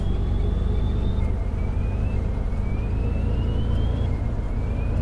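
A London bus in a bus simulator game running in the Croydon area, a steady low engine rumble with a rising whine as it drives around and parks, continuous and fairly loud with no talk.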